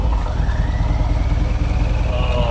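A turbocharged Harley drag bike running on E85 idles in a steady, loping rumble, with a thin turbo whistle rising faintly above the close engine throb.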